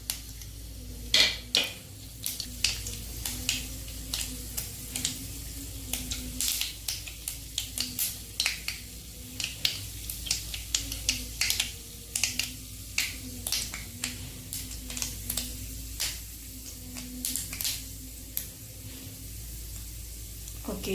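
Mustard seeds and chana dal sputtering in hot oil while making kara chutney, giving steady crackling pops and sharp sizzling snaps throughout, with faint talk under it.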